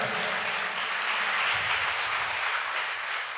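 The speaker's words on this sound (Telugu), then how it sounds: "గట్టిగా ఒకసారి చప్పట్లు కొట్టండి" A church congregation claps loudly together during a Sunday worship service, with dense, steady applause filling the whole stretch at close range and no voices on top of it.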